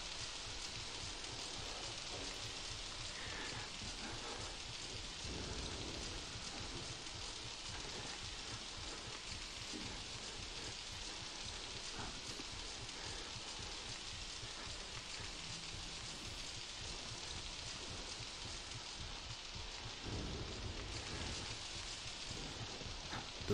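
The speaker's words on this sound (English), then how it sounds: "Rain does make it really hard to hear," Steady, dense rain hiss from the video game Outlast fills the whole stretch at an even level, with faint low rumbles underneath and no voices.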